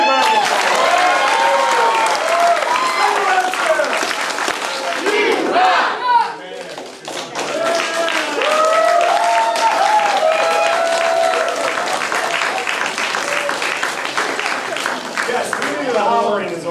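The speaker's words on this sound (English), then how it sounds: "Give him a big round of applause." A crowd claps, cheers and hollers loudly at a family martial arts center belt ceremony, sustained and enthusiastic with a brief dip partway, voices shouting over the applause.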